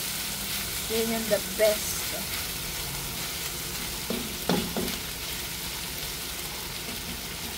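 Chicken pieces browning in a hot pan for tinola, a steady close sizzle of frying with a few stirring scrapes and clatters, while a voice speaks briefly over it.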